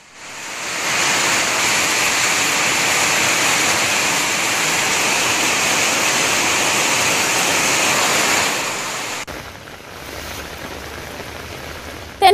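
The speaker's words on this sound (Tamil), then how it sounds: "தென்காசி மாவட்டம் சங்கரன்கோவில் சுற்றுவட்டாரத்தில் பல்வேறு பகுதிகளில் கனமழை கொட்டி தீர்த்தது" Heavy rain pouring down around Sankarankovil in Tenkasi district, a dense, loud, unbroken hiss of rainfall and running water that holds steady before abruptly dropping to a quieter background near the end.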